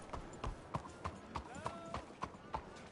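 Horse hooves clip-clopping at a walking pace in Red Dead Redemption 2, about nine evenly spaced hoof strikes close by, with a faint whinny-like tone in the middle.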